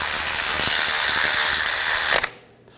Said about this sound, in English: Now tighten it down.